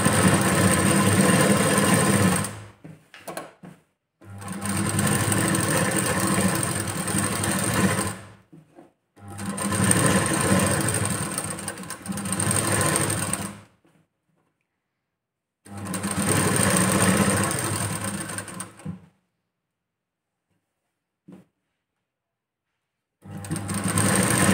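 Sewing machine stitching a blouse, running in four long bursts of fast, even mechanical whirring separated by silent pauses, close and loud, with a faint final start at the end.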